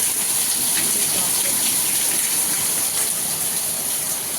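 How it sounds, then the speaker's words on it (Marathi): Heavy rain pours outdoors in a dense, unbroken hiss and roar of water that stays loud and even from start to finish, with no talk. "बापरे किती पाऊस चालू आहे."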